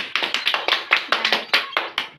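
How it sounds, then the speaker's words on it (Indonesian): Brief classroom applause for a student who answered a question, a quick burst of several hands clapping in a steady, close patter with no talking. "Tepuk tangan juga untuk Ajeng."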